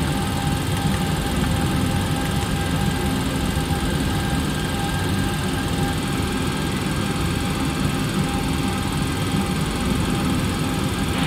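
Boeing 737-800 engines at takeoff in X-Plane 11, bound from Dublin to London Heathrow, roar as a steady broadband rumble with a high whine layered above, constant and loud, no talk.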